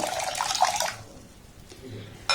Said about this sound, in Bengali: জল দিয়ে চালটাকে প্রথমে 4 থেকে 5 বার পাল্টে পাল্টে আমি খুব ভালোভাবে ধুয়ে নেব